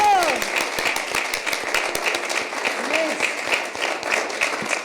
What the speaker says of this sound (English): So can we just have a really big round of applause for Patronage?